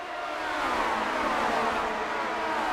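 A race car engine in Grand Prix Legends, at Daytona International Speedway, accelerating with a steady, rising roar that holds at moderate loudness without a break.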